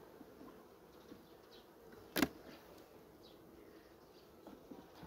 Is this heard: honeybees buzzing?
yes